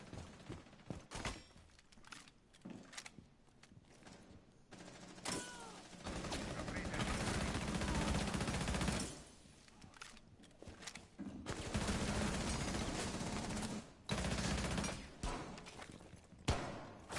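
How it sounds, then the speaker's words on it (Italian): Bursts of gunfire and mechanical clatter from a Rainbow Six Siege match come in dense, loud stretches separated by quieter gaps, with rattling and thuds mixed in. "Inizia il contro colpo."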